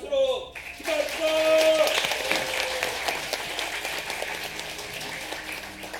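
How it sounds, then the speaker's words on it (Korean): An audience at a church's 70th-anniversary staged reading performance breaks into sustained, dense applause, loud and continuous after a brief voice at the start. "뜨겁게 박수로 축하합니다"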